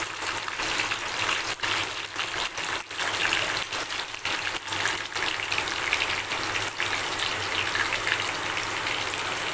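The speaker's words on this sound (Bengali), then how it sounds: "আর গোটা জিরে শুকনো লঙ্কা এটাকে আমি ফোড়নে দিলাম" Whole cumin and dried chilli sizzle and spit in hot oil as a tempering, a steady dense crackling hiss with small pops throughout.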